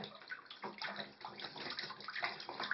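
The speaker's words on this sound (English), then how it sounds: "Oh, you're not splashing. You're splashing." A baby splashes in bath water during bath time, a steady run of watery slaps and sloshes close by, with faint background gurgling throughout.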